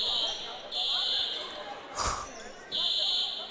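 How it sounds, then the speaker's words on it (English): A gym fire alarm blares in steady loud electronic bursts during a college basketball tournament game, pausing briefly while a ball thumps once on the court, then sounding again. "we do have a fire alarm going off in the gym, so stoppage of play"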